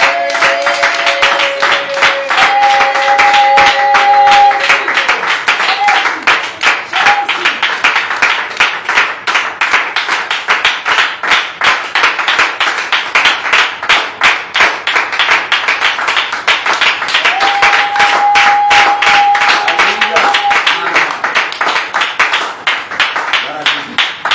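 A church congregation at an evening worship service applauds steadily and loudly for the whole stretch, a dense wash of many hands clapping, with sustained sung or spoken tones rising over it at moments.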